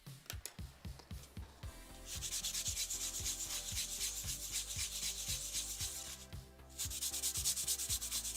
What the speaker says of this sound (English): All right, time to sharpen.